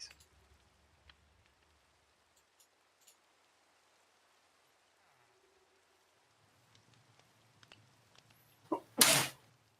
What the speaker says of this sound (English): Sneezes going around.